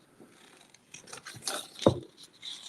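Scissors cutting a face shape out of cardboard for a Christmas decoration: a few faint, close snips and scraping rubs, quiet and intermittent, with no talk.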